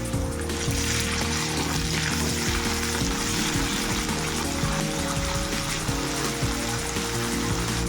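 Chopped garlic, chopped onion and ginger-garlic paste fry in hot oil for palak paneer, giving a steady, loud, close sizzle that runs the whole time with faint stirring scrapes and no talking.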